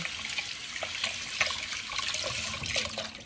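A cup being rinsed under a running tap, water splashing and gurgling steadily at close range with small clinks and surges, no voices.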